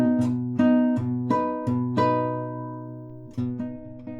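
An acoustic guitar plays a fingerpicked pattern, with plucked bass notes on the sixth string alternating with the first and second strings in a steady, close rhythm that rings out clearly.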